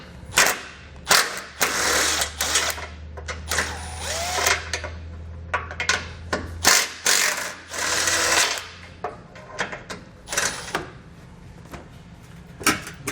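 A ratchet works 14mm bolts out of a bumper beam on a 2019 Toyota, sounding as short, uneven bursts of clicking and metallic rattle separated by brief pauses.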